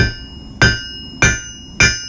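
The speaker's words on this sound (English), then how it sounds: "coming to the edge of the anvil, making sure half of our hammer face is on, half is off, and making a big strike, 90 degrees" Three heavy, evenly spaced hammer blows ring out on hot metal at the edge of an anvil while forging a J hook, each strike sharp and loud with a bright metallic decay, no talking.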